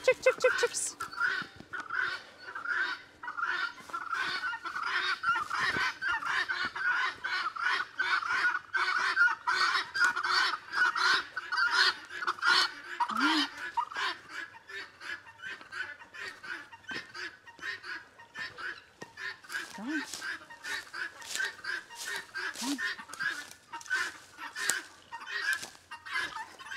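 Chickens cluck and chatter close by in steady, rhythmic calls, with occasional lower honk-like cries from geese mixed in, and a person calls to the flock at intervals.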